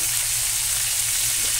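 A large mud crab lands in a buttered pan, giving a steady, dense sizzle and crackle that holds evenly throughout, close and alone with no talk.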